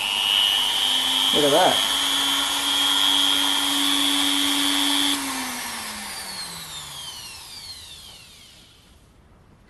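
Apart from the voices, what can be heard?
HILDA rotary tool with cutting disc running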